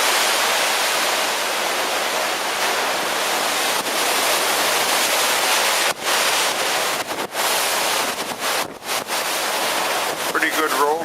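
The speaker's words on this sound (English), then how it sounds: "I don't know if you can hear the wave action." Broadband roar of wind-driven waves and blowing spray heard from the forward promenade deck of a ship in rough seas with 5 to 6 foot rollers, loud and continuous with brief dips and gusts.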